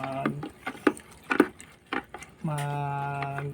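A utensil stirring a gel mixture in a container, with several scraping and clinking strokes at an uneven pace, followed by a sustained hum at the end.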